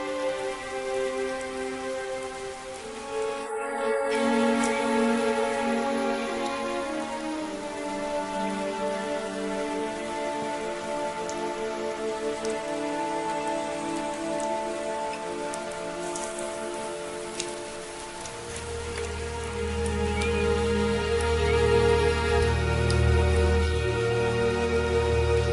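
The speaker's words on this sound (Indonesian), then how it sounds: "sedang hujan" Steady rain falls and patters throughout, a continuous wash with a tonal musical score running over it and swelling louder toward the end.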